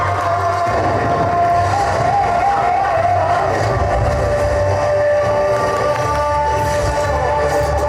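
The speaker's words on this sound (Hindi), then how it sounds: "जोरदार ताली से स्वागत करें बच्चों।" Children applauding a welcome at a school annual function, a loud, sustained roar of crowd clapping and cheering filling the whole stretch, with a faint tone running beneath.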